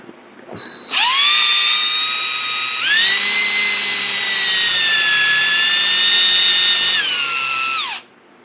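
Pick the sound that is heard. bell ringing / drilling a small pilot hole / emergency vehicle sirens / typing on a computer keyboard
drilling a small pilot hole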